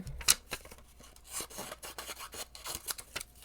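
Scissors trim a Post-it note at a paper-crafting table, giving a series of short close snips and papery rasps in an uneven rhythm, with no talk.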